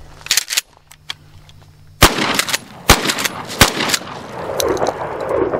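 A Mossberg 500 pump shotgun with a cut-down barrel and a replaced ejector fires three sharp, loud shots about a second apart. Each blast rings out over a steady background rumble.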